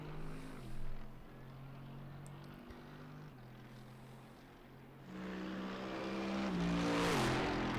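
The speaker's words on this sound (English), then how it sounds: "I love the way the Mercedes sounds." Mercedes GT3 race car engine in iRacing at Hockenheimring, a low throaty drone holding steady gears, then swelling louder with rising revs and upshift steps toward the end, heard alone without talk.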